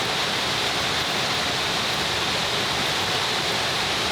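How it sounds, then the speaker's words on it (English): A huge waterfall at the end of a hiking trail in Maine, heard as a loud, steady broadband roar of rushing water, continuous and unvarying with no voices. "This is a huge waterfall."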